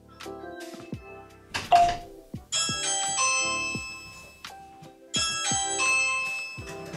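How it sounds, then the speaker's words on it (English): A Ring smart video doorbell plays a musical electronic ding-dong chime, repeating twice with ringing tones, fairly clear and close with no talking. "So let's press the doorbell and see if it's worked"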